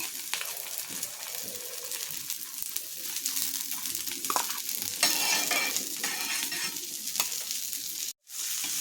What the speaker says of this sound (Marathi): दोघं बाजूने भाजून घ्यायची आहे पुन्हा आपण त्यावर तूप घालायचं